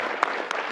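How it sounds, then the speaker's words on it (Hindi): Brief clapping applause for India's Champions Trophy win, a steady close patter of hands lasting under a second. "ये तालियां काश हमारे वतन के लिए भी बज रही होती"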